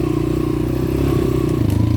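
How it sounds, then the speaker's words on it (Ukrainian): Steady engine drone and mechanical clatter from a Geon 190cc motorcycle while riding, loud and continuous with a constant low rumble for two seconds, no talk. "ну, і шуму трошки буде від мотоцикла"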